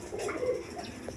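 A pair of Rajgolla pigeons gives a soft, brief coo at close range, low and muffled, against quiet background noise.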